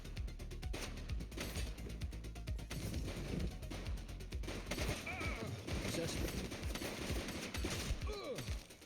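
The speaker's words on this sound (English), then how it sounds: "She's shooting." Rapid gunfire from The Precinct video game, with dense bursts of shots crackling steadily for about nine seconds at a moderate level, occasional sharper impacts mixed in, and a brief voice in the background.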